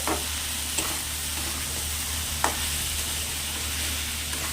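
Sautéing with cumin powder in a pan, a soft, steady sizzle with a couple of faint spatula scrapes over a constant low hum, no speech.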